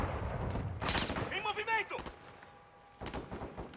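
Video game gunfire in Call of Duty: Modern Warfare 2 comes as a few sharp, scattered bursts at moderate level, with game voices and a tonal radio-like sound between the shots.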